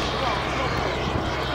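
A turbine-powered BAe Hawk model jet flies past at an aircraft models fair, giving a loud, continuous roaring whoosh that holds steady, with a voice talking over it.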